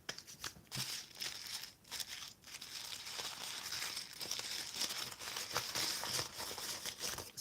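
Sheets of handmade cotton and colored paper are handled and crinkled up close, giving quiet, continuous rustling with soft crackles.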